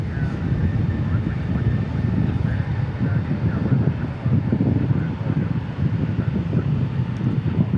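An airliner taking off at DFW airport produces a sustained low jet roar, fairly loud and slightly uneven, mixed with gusty wind buffeting against the microphone.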